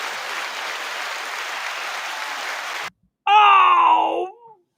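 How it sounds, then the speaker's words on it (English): Canned applause triggered from a soundboard button roars steadily for about three seconds and cuts off abruptly. After a brief silence comes a loud, drawn-out tonal groan-like sound effect that fades away. "You can actually hold down applause as much as you want"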